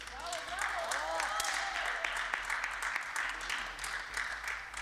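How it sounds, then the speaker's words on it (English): Applause ripples through the hall at a junior men's 10m air pistol shooting event, steady and moderately loud beneath a commentator's talk and some tonal chatter. "Round of applause, I think, going up for Luka Yolda"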